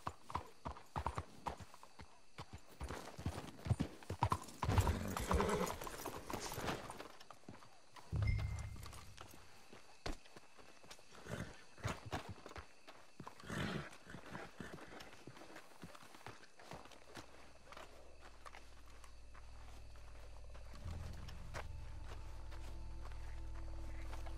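Horses' hooves clip-clop in Red Dead Redemption II. Irregular, fairly close steps come and go, then give way to a low ambient hum.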